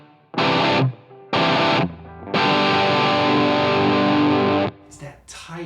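A Gibson SG electric guitar plays a riff with a tight, driven, distorted tone. Two short chord hits are followed by a long sustained chord, all loud and close, and a few quieter notes trail off at the end.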